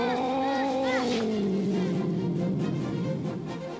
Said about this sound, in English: maybe they're actual cat sounds, but I've never seen a cat make a sound like that before